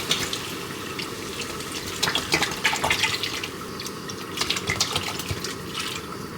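Bone broth poured into a pot of spices and ginger, a steady stream of liquid splashing and gurgling at close range with irregular louder splashes.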